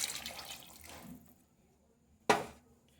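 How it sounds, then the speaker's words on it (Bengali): Water from a mixer jar is poured into a pressure cooker in a home kitchen: a short trickling pour that fades out, a quiet pause, then a sharp clink or splash. "এবারে এতে মিক্সি দেওয়া জলটা দেব"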